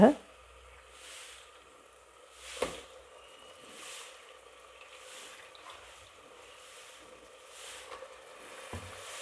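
Soft sizzling of goat head meat dropped into hot chili masala in a pan, a quiet steady fizz with occasional stirring clatters and scrapes.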